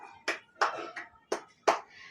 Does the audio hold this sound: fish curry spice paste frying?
no